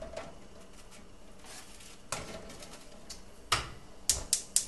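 Eggs being set into a pot of cold water in a home kitchen, with soft clinks and knocks of shell against the pot, a few sharp taps bunched near the end over quiet background.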